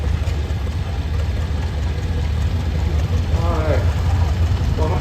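A 1947 KD1 truck idles at a steam-up parade, its engine a steady low rumble throughout while people talk nearby over the outdoor crowd noise.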